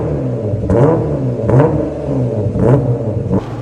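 A Jeep JT's engine revs up close and loud, rising and falling in about four throaty surges over a steady rumbling idle, with no talking.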